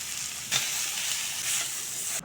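Flat beans fry in a pan with a continuous, steady sizzle and hiss of hot oil, close by, with one or two brief stirring scrapes.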